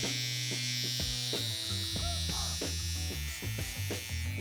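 An electric beard clipper buzzes steadily while trimming the neckline of a beard, its hum close and constant across the whole stretch with slight shifts in pitch as it moves.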